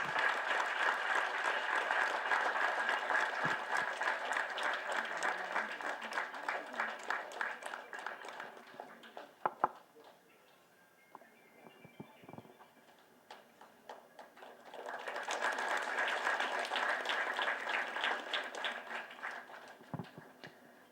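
Audience clapping in a full hall at a nurses' award ceremony, a steady spatter of applause that dies down midway to sparse taps and scattered noise, then rises again into a second burst near the end.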